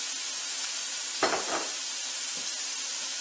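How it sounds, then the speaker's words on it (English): Butter chicken curry made with coconut milk simmers in a pan with a steady, soft bubbling hiss. A brief clatter sounds partway through. "Now we'll just let that simmer."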